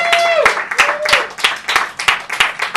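A comedy show audience cheers and claps for comedian Dave Waite, with bursts of applause and whoops rising and falling while a voice speaks over the crowd.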